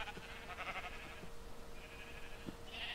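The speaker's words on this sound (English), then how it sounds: "Oh, wait, why are you in there, red sheep?" Minecraft sheep bleats sound in a short game scene, a few brief nasal calls spaced across the moment, mid-distance and fairly quiet over a steady low background hum.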